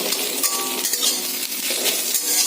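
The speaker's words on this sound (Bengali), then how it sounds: "এই ঢাকনা তুললাম।" A metal lid is lifted off a pot of bottle gourd simmering for a milk pudding, with a short metallic clink and scrape over a steady background hiss from the cooking.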